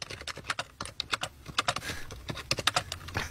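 Someone types rapidly on a computer keyboard, a close, busy patter of crisp key clicks in uneven bursts with brief pauses.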